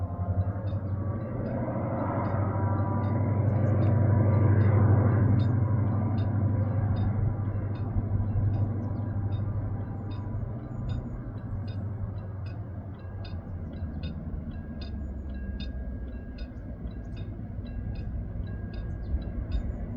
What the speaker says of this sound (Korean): 다시 코너기를 들어서면서 속도를 높이는 열차.